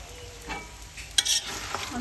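Almonds and fried onion roasting in a pan for a village iftar dish, with soft stirring scrapes and a quiet sizzle, a brighter clatter of utensil on pan near the middle, all fairly faint and close with no talking.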